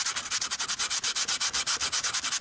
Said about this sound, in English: I'm here, might as well do some sanding